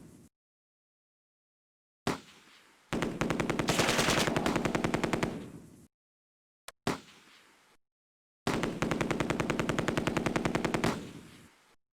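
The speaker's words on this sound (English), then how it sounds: "The machine gun's almost out of ammo." Two long machine gun bursts rattle in the Close Combat World War II strategy game. Each burst is a rapid, loud, even string of shots preceded by a single sharp report, with silence between them.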